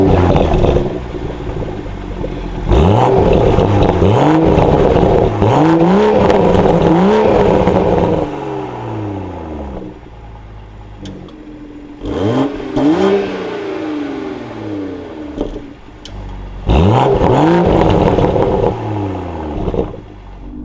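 A 2024 Toyota GR Supra 3.0 with manual gearbox starts up and revs hard in three loud bursts, engine pitch sweeping up and falling back between them, with a steady idle in the gaps and no talking.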